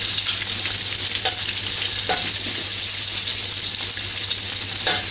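Garlic and onion sautéing in a pan make a dense, continuous hiss up close, broken by a few soft clicks of a utensil, with a low hum underneath and no talking.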